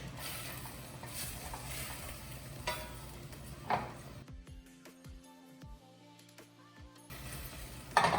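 Red burgundy wine reducing over medium heat in a pan for coq au vin, a soft steady sizzle with occasional stirring scrapes, broken midway by a quieter stretch with a low hum before the sizzle returns.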